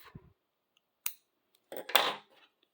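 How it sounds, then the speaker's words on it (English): Scissors snip through crochet yarn on a finished pumpkin, giving one sharp close click, then a longer crunching cut and a faint final tick in an otherwise quiet room. "now you're just going to cut off"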